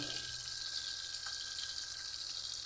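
Fish frying in a pan with garlic, a steady quiet sizzle and crackle of hot oil running evenly throughout.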